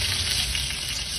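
Ginger and garlic sizzle steadily in hot oil in a frying pan, a loud, dense crackle with no pauses and no talk.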